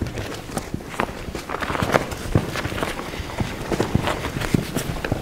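Horse loping in circles during flag confidence training, a steady run of muffled hoofbeats thudding on soft ground close by, rhythmic and continuous throughout.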